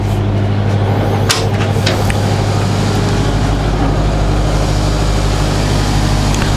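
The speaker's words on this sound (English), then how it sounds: "We have one generator working now." A loud, steady mechanical drone of a generator running in the engine room of a Ferretti 881 yacht, constant low hum with a faint clank near the start.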